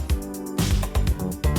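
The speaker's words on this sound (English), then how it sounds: "when they slap the bass on a bass guitar, it sounds like" Slapped electric bass guitar in a funk-style production, punchy low thumps in a syncopated rhythm with bright percussive attacks, loud and upfront with no talking.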